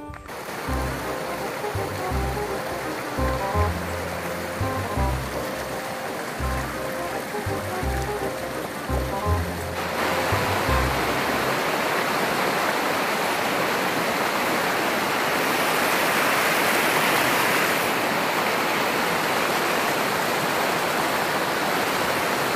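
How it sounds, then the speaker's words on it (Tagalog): Flowing water of the Batangan river: muffled low thumps of handling or footsteps for the first half, then a loud, steady broadband rush of river water that fills the rest. "dito kami ngayon sa ilog ng Batangan."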